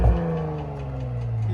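A Porsche Cayenne S with a 2.9L twin-turbo V6 and an aftermarket exhaust gives a quick, close rev that settles into a steady, droning idle, with no voices.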